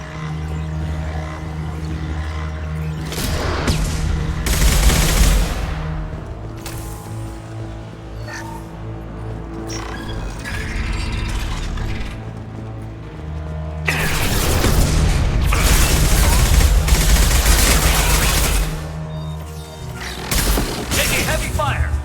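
Heavy gunfire in Mass Effect 2 combat, long dense roaring bursts with booming impacts, loud and continuous across two main stretches with a lull between them.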